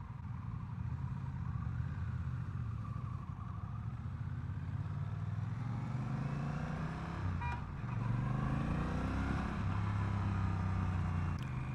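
A Honda Rebel 1100 motorcycle engine hums steadily while riding, a low throaty drone that swells slightly as revs rise, with wind rush layered on top and no talking.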